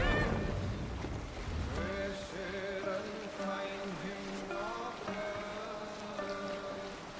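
A sailing ship with its sail raised cuts across open sea in Assassin's Creed Valhalla, steady wind and rushing water beneath, with voices and some tonal sounds over the constant wash.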